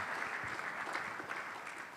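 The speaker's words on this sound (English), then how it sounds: "Let's give it a round of applause for Samson" Steady, moderately loud applause from a conference audience for a speaker at a Bitcoin event in Indonesia, a dense even patter of many hands throughout.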